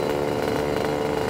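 A Lambretta scooter fitted with a SIP Nordspeed expansion exhaust drones at steady high revs, a continuous buzzy two-stroke note with no one talking.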